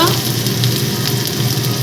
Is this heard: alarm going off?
no